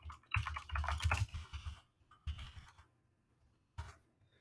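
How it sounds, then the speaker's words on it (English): Typing on a computer keyboard while entering a project name into survey software: quick bursts of close keystrokes with short pauses between them, then a final cluster near the end. "We're going to type in the project name."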